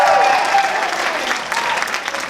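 Audience at a comedy show breaks into a brief, loud burst of applause, dense clapping close by that tapers slightly, with a voice briefly heard over it at the start.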